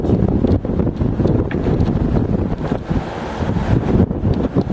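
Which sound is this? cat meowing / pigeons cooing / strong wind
strong wind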